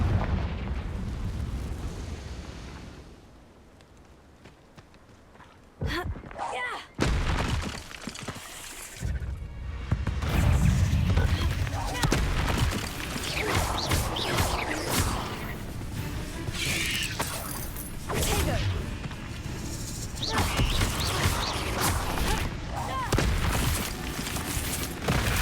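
Confringo fire spells burst in Hogwarts Legacy, heavy booms and crackling blasts that come in loud waves over a rumbling magical battle, with a quieter lull partway through.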